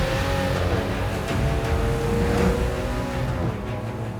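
The V12 engine of a Huber ERA 001, a coachbuilt body kit on a Lamborghini Aventador LP700-4, roars loudly and continuously while driving, with rising and falling revs and a tonal howl, no voices.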